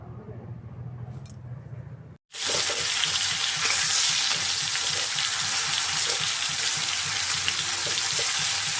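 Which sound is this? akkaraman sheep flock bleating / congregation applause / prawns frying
prawns frying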